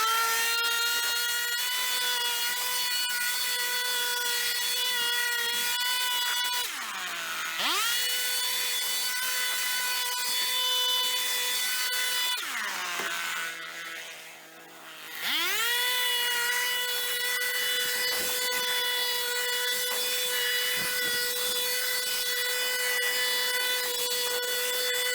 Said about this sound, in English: we are going to use a blower and blow it out